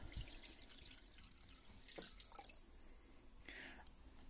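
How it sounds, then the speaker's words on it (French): Tap water trickles and drips into a bowl in a kitchen while a microwave is being cleaned, quiet, close splashes with a brief brighter gush near the end, no voices. "250 ml d'eau du robinet, il n'y a pas de souci, que nous versons dans le bol"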